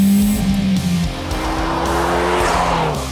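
A car engine roars and climbs in pitch under hard acceleration, tires hissing on the road, loud and close before easing slightly.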